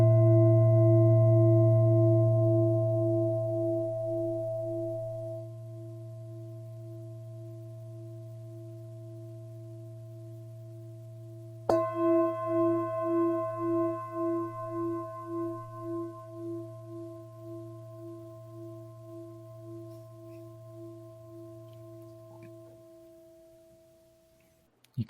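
A singing bowl is struck twice, each strike ringing with a long, steady, shimmering tone that slowly decays; the second strike is louder and pulses audibly as it fades, with no talking.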